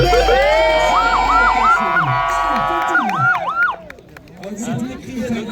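A police siren wails loudly and close at an indoor show event, its rising and falling tone repeating several times over the murmur of a crowd.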